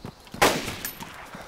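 A sharp gunshot bursts out in the DayZ video game, its broad crack fading into a ringing tail with a few fainter shots scattered around it, loud and close with no talk.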